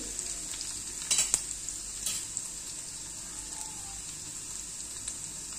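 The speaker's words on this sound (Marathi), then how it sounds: "लसूण आणि आल्याचे काप, थोडेसे परतून घ्यायचे आहे" Garlic and ginger slices sautéing in oil for prawn pickle make a soft steady hiss, fairly quiet, with a few brief scrapes and taps from stirring early on.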